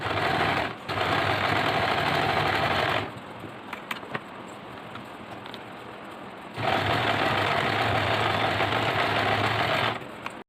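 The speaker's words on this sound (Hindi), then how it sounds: "इसी मार्किंग के ऊपर हमें सिलाई कर लेनी है।" A sewing machine stitches fabric along a marked line for a cosmetic pouch, running loudly in a short burst and then two longer whirring runs, with a quieter gap of several seconds in between.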